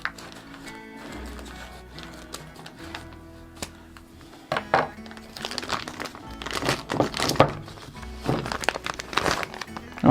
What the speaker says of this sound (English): So let's cut open the bag and go from there